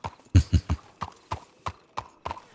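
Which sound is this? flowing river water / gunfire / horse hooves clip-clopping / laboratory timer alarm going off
horse hooves clip-clopping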